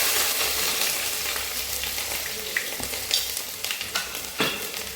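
Crushed garlic and ginger frying in hot oil, a loud, close sizzle that starts strong and settles, with a few scraping stirs and clicks toward the end.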